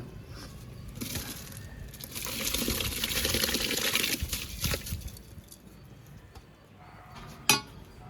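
Rice is poured into a large pot of boiling water outdoors in a village kitchen for a 3 kg chicken dum biryani, a rushing, splashing pour lasting several seconds, followed by a faint bubbling and one sharp metallic clink.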